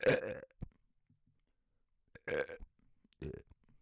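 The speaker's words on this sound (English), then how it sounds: "I can do belch mic." Several loud, close burps come in separate bursts, one long belch at the start and two more after a pause, with quiet gaps between them.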